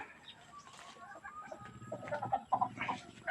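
Chickens, including an old brooding hen, cluck in a steady, busy jumble in a brooding pen, growing louder and denser toward the end, with a faint background hum.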